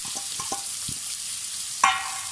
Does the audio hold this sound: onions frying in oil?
yes